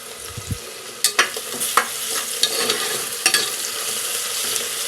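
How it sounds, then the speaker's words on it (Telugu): Onions, green chillies and curry leaves frying in hot oil for a mutton curry, a steady broadband sizzle with several sharp clacks of a spoon stirring against the pan, no voices. "ఆయిల్ హీట్ అయింది ఉల్లిపాయ ముక్కలు పచ్చిమిర్చి ముక్కలు వేసి వేయించుకుందాం దీనిలోనే కరివేపాకు వేసుకుని వేయించుకోవాలి"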